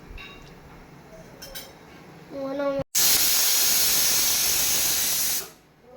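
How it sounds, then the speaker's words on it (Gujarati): A few clinks and a brief tone, then a sudden loud sizzling hiss as the tempering for kadhi hits hot oil, holding steady for a few seconds before fading. "આપણો રોટલો તૈયાર થઈ ગયો ને હવે કઢીને વઘારી લેશું"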